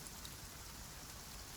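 Steady rain pattering on a greenhouse at night, a dense, even hiss of drops on the roof and glass, continuous and close, with no voices.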